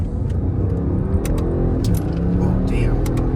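A 700 hp V8-powered BMW accelerates hard in paddle-shifter mode, its deep engine rumble steady and loud throughout, with a few sharp clicks and rattles over the drone.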